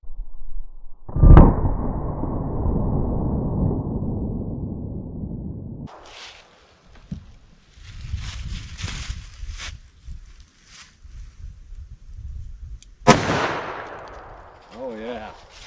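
A .357 Magnum hard cast round fired into wood, one sharp loud gunshot followed by a long rumbling echo, then outdoor noise and a second sharp crack near the end.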